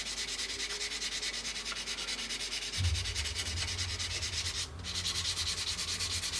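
Continuous close scratchy sanding of paint off a Revell 1/32 Messerschmitt Bf110 C-2 plastic model, a rapid back-and-forth rubbing that keeps a steady rhythm throughout with no voices.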